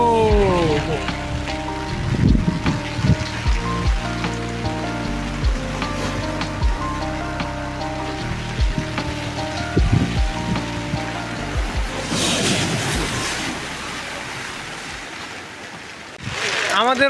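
Rain falls steadily on Patenga sea beach with the rush of sea surf behind it, a continuous wash of noise under music and people talking, with louder bursts of downpour near the end.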